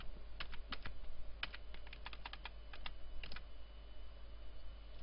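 Clusters of sharp computer keyboard key presses while working in GIMP, some in quick bursts and some spaced apart, close and fairly loud over a steady low hum.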